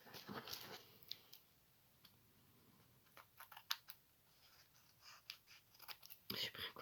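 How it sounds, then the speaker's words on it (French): A pair of scissors that does not cut well snips paper for a small craft decoration, giving a run of crisp, close clicks and crunches at irregular intervals, with a denser burst of cuts near the end. "J'ai pris un ciseau qui ne, enfin, une paire de ciseaux qui ne fonctionne pas des masses."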